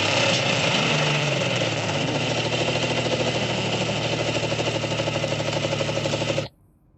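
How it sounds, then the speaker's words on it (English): A vehicle engine, isolated from a mix, runs at a steady mid-pitched idle for about six seconds and then cuts off abruptly into near-silence. "the engine sound of a vehicle, here is the separation results"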